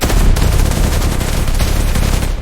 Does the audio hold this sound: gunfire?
yes